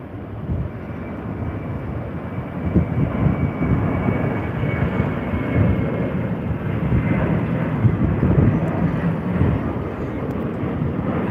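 A Qantas airliner passes at a plane-spotting spot, a steady broadband engine roar that swells slightly midway and holds loud and continuous throughout.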